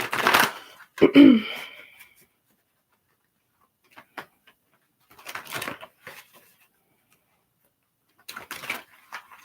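Tarot cards are shuffled close by in several short, brisk bursts, with quiet pauses between each round of shuffling.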